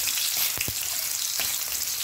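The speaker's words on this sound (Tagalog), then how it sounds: "Ilagay muna natin ang luya. At ating pagigita." Ginger sautéing in a pan for native chicken tinola gives a loud, steady sizzle with a few brief scraping stir sounds, close up and with no talking.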